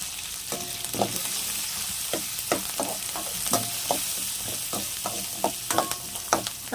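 Onions fry in a pan with a little turmeric added, a steady sizzle running throughout while a spoon scrapes and stirs in frequent sharp clacks, close and fairly loud with no talking.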